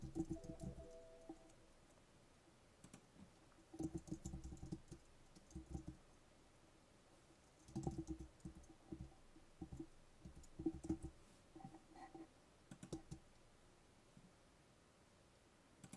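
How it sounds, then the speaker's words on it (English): Typing on a computer keyboard while editing a PDF: bursts of quick, light key clicks separated by short pauses, close and fairly quiet, with no talking. "I'm able to type right over it."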